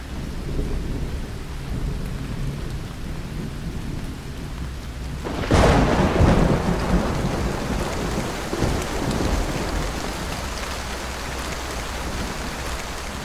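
Steady rain hisses throughout, then a sudden crack of thunder bursts midway and rumbles off, leaving the downpour continuing alone.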